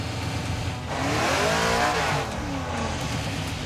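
A 1956 Chevy field car with a newly fitted engine, running and revving as it drives, a loud close roar that climbs and falls in pitch, with a brief swell near the middle.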